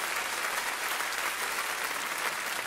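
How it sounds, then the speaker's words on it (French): Audience applause at a televised cabaret variety show, a thick, even wash of many hands clapping together, sustained and fairly distant without any pause. "Applaudissez encore Jean-Pierre Blanchard."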